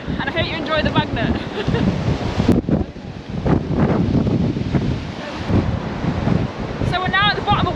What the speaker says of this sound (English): This is the bottom of it, so it's very, very windy.